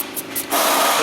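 Panther Pee penetrating lubricant sprayed from a can on rear A/C line fittings of a Kia Sedona, a few short hissing puffs followed by a longer, steady close-up spray.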